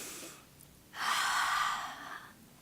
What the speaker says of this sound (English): Let's take a nice deep breath.